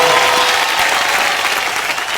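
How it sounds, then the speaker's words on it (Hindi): Loud studio audience applause for a celebrity couple on a TV comedy show, a steady dense wash of clapping throughout with faint crowd noise and no clear talking. "फिर से जोरदार तालियां इस पावर सुपरस्टार कपल के लिए, अजय देवगन एंड काजोल।"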